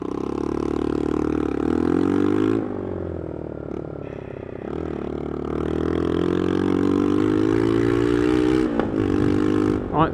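Motorcycle engine on a ride with the bike leaned hard, a loud close exhaust drone whose pitch rises and falls with throttle changes, dipping briefly and then building again, with wind noise and brief scraping clatter.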